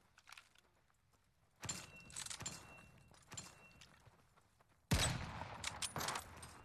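Rifle fire from a Mosin three-line rifle in The Vanguard Alpha shooter game: two sudden loud shots with ringing tails, separated by quieter game noises and faint clatter.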